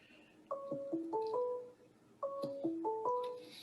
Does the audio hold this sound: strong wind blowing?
no